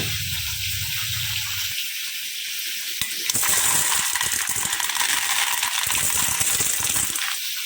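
Dried peas poured into a container to soak in water, a rattling cascade of small hard pellets striking the vessel, followed by a rougher, busier stretch of clattering and splashing, close and fairly loud.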